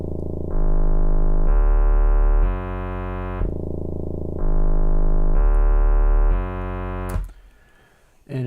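Synthesized tones run through asymmetrical distortion, stepping up in a repeating four-note pattern twice, loud, buzzy and harmonically rich, ending in a brief noisy crackle.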